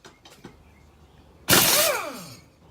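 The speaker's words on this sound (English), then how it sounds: "we are going to get that blade off and use my awesome generic impact wrench here" A generic impact wrench loosening a lawnmower blade, one loud burst of rattling hammering that winds down over about a second, after a few faint knocks.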